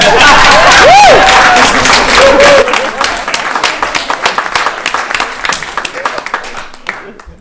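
Audience applause and cheering at a round table on agroecology and feminism: a dense, loud burst of clapping with a whistle that thins over several seconds into scattered, fading claps.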